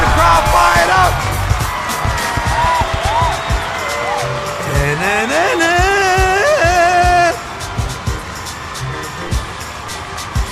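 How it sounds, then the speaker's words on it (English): Video game crowd roars and cheers at a basketball dunk contest, loud and continuous, with whoops and tonal game sounds layered over it throughout. "He got the crowd fired up."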